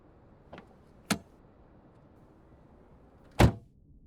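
A car door being opened: two light clicks of the handle, then a louder thunk of the latch a few seconds later, heard close against a quiet background.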